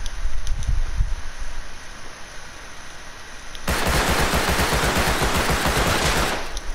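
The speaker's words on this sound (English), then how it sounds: "he's getting shot at" Automatic gunfire in the video game Rust, a loud rapid burst of evenly spaced shots lasting about three seconds after a quieter stretch of scattered pops and ambient noise.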